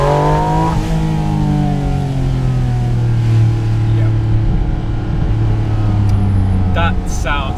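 A Porsche GT4 RS engine revs hard, its rising race-car whine loud and continuous from inside the cabin, with a brief spoken word near the end.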